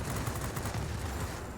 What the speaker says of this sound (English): You can see just how strong these guns are when they hit